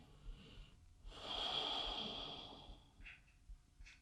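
One deep breath during a balance workout, a close, quiet inhale swelling and then slowly released as a long airy exhale, followed by a couple of soft short puffs.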